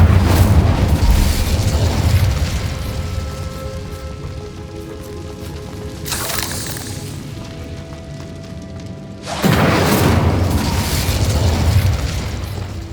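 Incendio fire spell blast cast in Hogwarts Legacy, a loud roaring burst of flame that rumbles on, drops away, then returns as a second heavy whooshing blast, with no talk.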